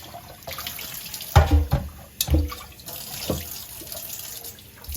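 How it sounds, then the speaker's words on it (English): Running tap water splashes into a pot, with a few louder clanks and sloshes as the vessel shifts under the stream. "now it catch some water in the pot, cold water"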